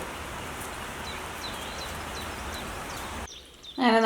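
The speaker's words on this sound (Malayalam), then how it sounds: "പുറത്ത് മഴ പെയ്തുകൊണ്ടിരിക്കുന്നുണ്ട്" Steady rain falling outside a New York home makes a constant broadband hiss, with a few faint bird chirps over it, then drops away near the end before a brief louder clatter.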